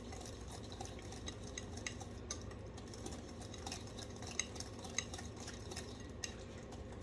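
A spoon swishes and scrapes softly and continuously around a pan of sugar melting into marmalade for BBQ tofu. The sound is faint and steady, with small clicks scattered through it.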